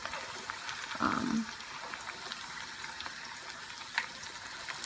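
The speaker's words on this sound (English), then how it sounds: "I'm gonna show you how these are gonna fry up" Spinach millet thepla fry in a pan with a quiet, continuous sizzle and crackle, broken by a brief louder bubbling burst early on and a faint tap later.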